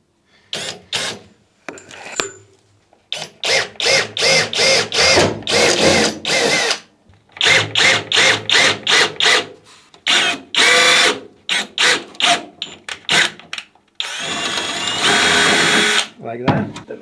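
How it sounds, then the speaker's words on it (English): Power drill boring a pilot hole while working on a Citroën AZU van, with repeated short bursts and longer whirring runs separated by pauses, loud and close, ending in one sustained spin. "Then I can go ahead and drill the pilot hole as soon as I find my mark."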